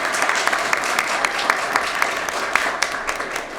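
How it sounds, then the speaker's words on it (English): Applause from an audience at a congressional caucus launch event with panelists, a steady dense wash of clapping with a few sharper claps standing out, moderately loud throughout. "Round of applause."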